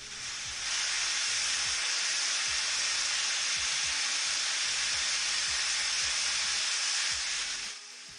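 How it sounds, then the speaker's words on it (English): Pressure cooker hissing steam while cooking rajma masala, a loud, steady broadband hiss that holds for about seven seconds and then cuts off, with no talking. "Pressure cooker ASMR."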